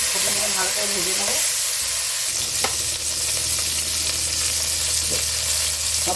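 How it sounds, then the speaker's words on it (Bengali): Cauliflower florets salted and dusted with turmeric fry in hot oil, a steady close sizzle with a few sharp stirring scrapes against the pan, no voices. "কপিগুলো ভালো করে ভেজে নেবো।"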